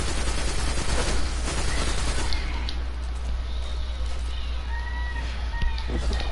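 Rapid video game gunfire crackling densely for the first few seconds under a constant low hum, then easing into quieter scattered sounds, with speech mixed in.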